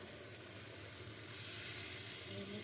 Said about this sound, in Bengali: তো মাছগুলো একটু উল্টে পাল্টে আমি ঠিকঠাক করে ভেজে নিচ্ছি।